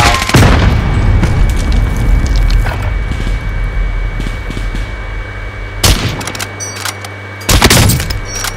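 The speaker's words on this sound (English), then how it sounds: "Tactical nuke inbound." A tactical nuke goes off in the video game Warzone. A heavy, loud blast with cracking, splintering debris opens the clip and fades into a low rumble, then two more sharp booms hit near the end.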